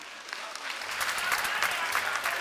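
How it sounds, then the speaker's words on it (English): Applause from a live audience for contestants at a beauty pageant grand finale, many hands clapping in a fairly even wash that swells slightly midway, with a low hum underneath. "Please clap for them."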